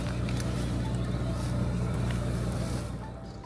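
A teleoperated, semi-autonomous Sherp all-terrain vehicle driving, with a steady loud engine drone and rumble that fades slightly at the end.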